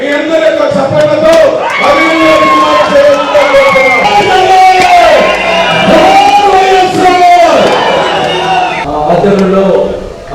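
A large crowd at a YSR Congress Party meeting in a convention hall in Ongole roars loudly and without a break, with shouts and whoops mixed into a dense, close wall of cheering.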